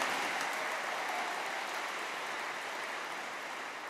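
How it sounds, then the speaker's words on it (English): Audience applause at an award ceremony, a dense, steady wash of clapping from a large crowd that stays loud throughout and eases off slightly toward the end, with no voices over it. "Give Professor Ewan Ritchie a big round of applause."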